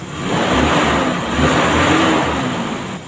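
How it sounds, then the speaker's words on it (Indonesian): A car engine revs up steadily for about three seconds during an acceleration check after dwell angle tuning on contact-breaker points, loud and close with no talk. "Dari hasil penyetelan tadi kita cek akselerasi."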